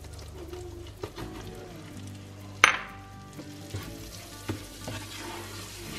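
Flour being stirred into melted butter in a frying pan: a soft steady sizzle with scraping stir strokes and occasional sharper clinks, one brief loud clatter in the middle, close and moderate in level.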